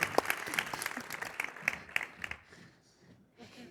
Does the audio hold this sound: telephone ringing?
no